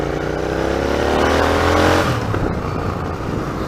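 A loud 2019 Royal Enfield Interceptor motorcycle engine revs high, then the pitch drops sharply as it downshifts, settling into a lower rumble.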